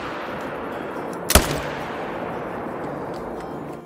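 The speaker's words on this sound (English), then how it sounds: "why don't we shoot a Cape with a slug in the new 10 gauge?" A single loud, sharp shotgun blast from a 10 gauge firing a slug in the hunting game Call of the Wild, cracking out once over steady outdoor ambience and then fading quickly.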